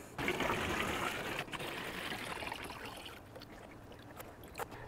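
Water mixed with hydroponic nutrient pours into a cat-litter container in a continuous splashing trickle. It is fairly close, starts louder and then eases slightly, with a few faint knocks at the end.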